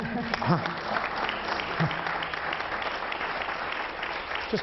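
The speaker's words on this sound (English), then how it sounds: "That deserves a round of applause as well." Audience applause at a panel on judicial independence and politics, a steady wash of clapping across the whole stretch with a few faint voices mixed in underneath.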